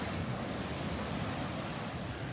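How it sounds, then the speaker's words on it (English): Ocean surf breaks steadily along the outer edge of a sandbar at Delnor-Wiggins beach in Florida, a broad, constant wash of crashing water mixed with wind noise and heard without any voices. "where those waves are all crashing, that's the outer edge of the sandbar"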